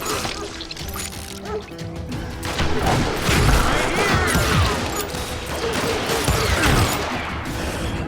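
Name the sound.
covering gunfire in video game Call of Juarez Gunslinger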